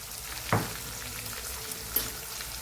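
Capsicum sizzles steadily in a hot pan, with two sharp scraping knocks of a spoon stirring it, alone and close by.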